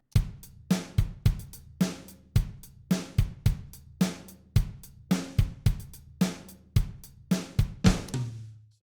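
A programmed drum part in Logic with adjusted hit velocities, playing kick, snare and hi-hat hits in a steady groove whose hits vary in loudness, clear and alone with no talking.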